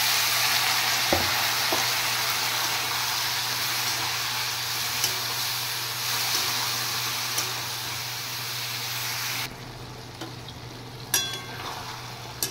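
Okra curry frying with spices and a little water, a continuous close hiss and sizzle throughout that drops away near the end, leaving a few faint clinks.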